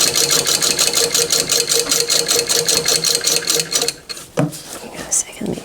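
A sewing machine stitching a seam with a regular presser foot: a fast, steady mechanical chatter for about four seconds, then it stops, followed by a few clicks and handling noises.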